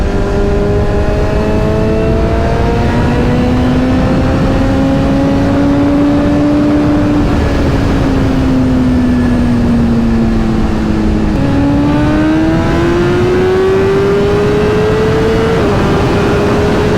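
A motorcycle with heated grips revs while riding, its engine droning loudly up and down in pitch through repeated rises and gear changes, close and steady under wind noise.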